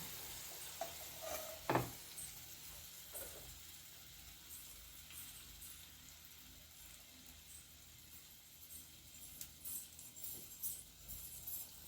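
Chettinad rava paniyaram batter fries quietly in a pan with a soft, steady sizzle, broken by a few light metallic clinks and scrapes.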